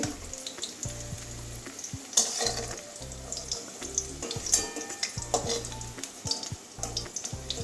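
Potatoes lifted out of hot frying oil and drained onto a plate, with irregular sizzling, scraping and dripping, plus clattering utensil knocks and a low rumble throughout, close and moderately loud.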